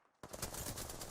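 Rapid gunfire in Apex Legends during a squad fight, a sudden loud burst of overlapping shots that starts abruptly and continues densely without a break.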